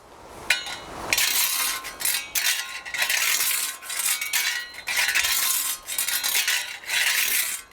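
A scythe blade scrapes and rasps across grass and ground during mowing, several bright swishing strokes repeating in a steady rhythm, close and fairly loud, with no voices.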